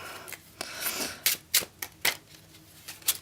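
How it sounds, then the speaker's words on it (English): Close, crisp riffling of playing cards in several quick bursts, papery flutters and snaps with short pauses between them. "when they're shuffling the cards"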